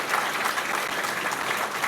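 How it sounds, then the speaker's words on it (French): Steady audience applause fills a New Year's greetings ceremony in Port-Saint-Louis-du-Rhône, a dense even clatter of clapping hands from a seated crowd throughout. "Donc j'aimerais qu'on applaudisse ces deux institutions ainsi que leur président"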